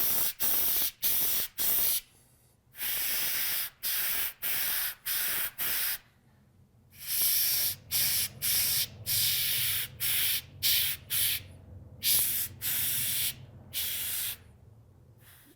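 Close airbrush spraying paint over a clear-coated surface, a steady hiss repeated in many short bursts with brief silent gaps between them, fairly quiet and with no talking.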